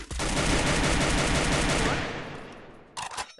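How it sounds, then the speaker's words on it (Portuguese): Video game gunfire in a competitive match, a rapid loud automatic burst lasting about two seconds that fades, followed by a brief second short burst. "Acho que ele tá tomando tiro, mano, da direita."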